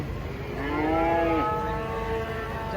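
A single long, low moo from a large cow being unloaded from a truck swells and then fades, close by and loud, over a steady background hum.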